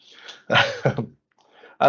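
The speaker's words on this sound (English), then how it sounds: "Sorry in advance for my sniffles and clearing my throat." A person clears their throat a couple of times, short rough bursts close to the ear with brief pauses between.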